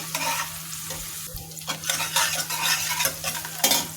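Spiny eel fish frying in a pan while being stirred, with steady sizzling broken by repeated scraping and clattering strokes of a spatula against the pan, close and fairly loud, with a low steady hum beneath.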